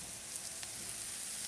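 Wild foraged mushrooms frying in oil and butter in a pan over high heat, giving a steady, dense crackling sizzle that runs evenly throughout with no talking.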